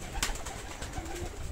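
Armenian pigeons cooing softly in a yard, low faint coos with light rustling in the background, no talking.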